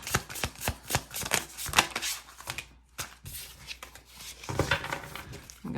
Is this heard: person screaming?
no